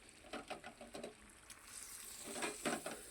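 Minced beef keema dropped into a pan with tomatoes and frying: soft sizzling with a few short scraping stirs near the start, then a steadier hiss, all fairly quiet and close.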